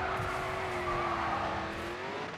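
Racing car in the video game Grid 2, a loud steady engine drone with a sustained tire squeal and skid running throughout, close and dominant with no talk.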